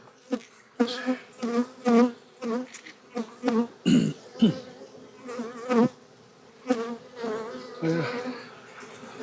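Buzzing of honeybees close by in an open live hive, in bursts rising and falling in pitch, with a throat-clearing sound partway through.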